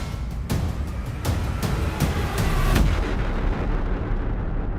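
Cannon fire in a Fallout Season 2 trailer, a volley of heavy booming shots in rapid succession at the start, then rumbling and fading into a dense, loud roar.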